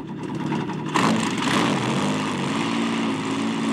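A cartoon helicopter lifts off with its propellers spinning, a steady, loud whirring engine drone that swells slightly after a moment and holds without any talk.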